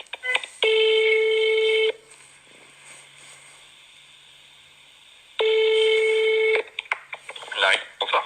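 Two long, loud ringback tones sound over a telephone line as a call is transferred to a hospital cardiology service, separated by a quiet gap, with faint voices and line noise in between.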